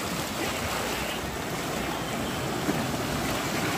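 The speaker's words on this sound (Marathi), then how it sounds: "हे खड्ड्यामध्ये बघा पाणी कसं जाते." Sea water rushes into a hole in the coastal rocks at the Malvan Rock Garden, a constant, loud, broad churning roar of surf with no pauses and no voices.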